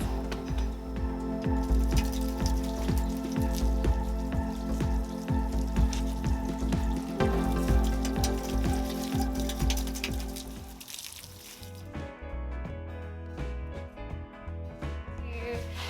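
Water from a garden hose spatters steadily over an object, likely tile, being rinsed for a furniture makeover. The flow runs for about eleven seconds, then cuts off, leaving quieter scattered drips.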